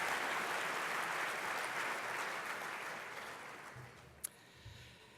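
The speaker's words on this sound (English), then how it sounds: "Big round of applause for the city officials." A crowd at Houston's 2018 State of the City address gives city officials a full, steady round of applause that gradually tapers off, ending in a few isolated claps.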